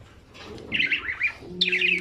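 Homer pigeons in a loft give soft cooing and chirping calls in short bursts, close by and fairly quiet against a low background.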